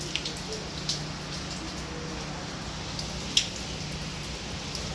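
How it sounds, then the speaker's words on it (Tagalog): Typhoon rain falls steadily outdoors, a soft continuous hiss with scattered drips and a few sharper drop impacts, moderately faint and with no voices. "Di makalabas. Dahil umuulan."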